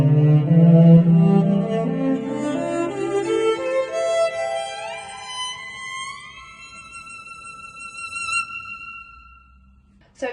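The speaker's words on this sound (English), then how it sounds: "Now this violin sounds like this." Solo violin playing from a children's music lesson on opera instruments, a sustained bowed melody with rising sliding pitches and long ringing tones, fairly close and alone, fading near the end.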